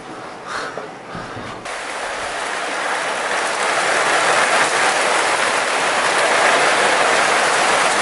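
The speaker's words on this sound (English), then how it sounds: "it's absolutely chucking down rain." Heavy rain pouring down in a dense, steady hiss that builds after a brief quieter start and keeps going without a break.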